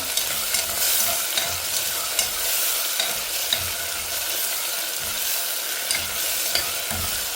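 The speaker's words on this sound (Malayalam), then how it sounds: "ഇഞ്ചി വെളുത്തുള്ളി ചതച്ചെടുക്കുക, അത് ഇട്ടിട്ട് അപ്പോൾ അതെല്ലാം വേറെ ഒന്ന് പച്ചമണം പോയിട്ടെ." Crushed ginger and garlic fry in a pan for a mutton liver roast, a steady close sizzle with repeated stirring scrapes and light clinks throughout, no voices.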